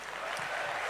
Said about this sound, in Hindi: प्रभा जी के लिए जोरदार तालियां।